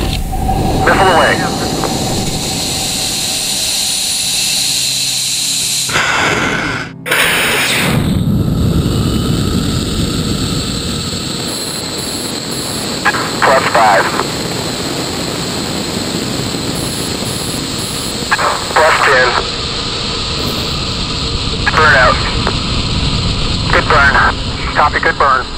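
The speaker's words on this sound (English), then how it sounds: "3, 2, 1, fire. Missile away." A rocket launching to space gives a loud, sustained engine roar that fills the whole stretch, with a brief sharp dropout midway and bursts of radio-style voices over it.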